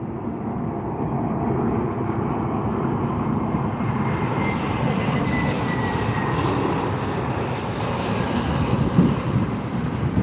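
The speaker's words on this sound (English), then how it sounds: "JFK to Vegas, Delta Airlines Airbus 321. Here it comes." Delta Airlines Airbus 321 arriving at Las Vegas from JFK, a loud, steady jet roar that swells gradually as the airliner nears, with some wind rumble.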